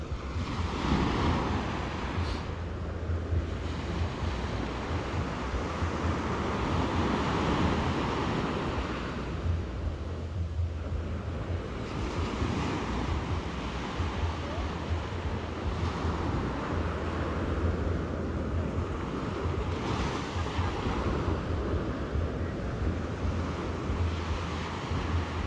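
Sea waves wash onto a beach at low tide, a continuous broad surf roar with gentle swells every few seconds, mixed with wind buffeting the microphone and no talking.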